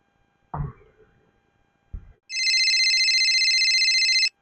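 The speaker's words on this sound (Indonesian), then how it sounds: "HP sada euy." A mobile phone rings loudly and steadily for about two seconds in a quiet home, after a couple of brief knocks or handling noises.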